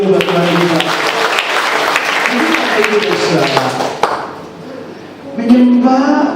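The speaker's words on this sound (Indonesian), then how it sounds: "Yang setuju beri tepuk tangan dulu buat Tuhan kita" A church congregation claps together under a speaking voice, and the applause fades as a singing voice comes in near the end.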